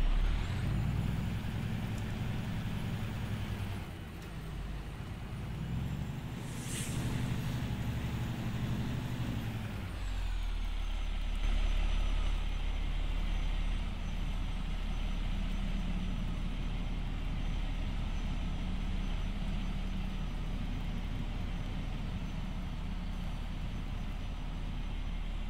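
Truck hauling Feno B-double trailers in American Truck Simulator, with a steady low engine drone throughout and a sharp air-brake hiss near the start before the engine settles into continuous driving.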